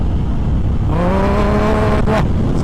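A Harley-Davidson Dyna Street Bob motorcycle accelerates loudly and close up, its engine note rising through a gear and then shifting with a brief break before pulling again.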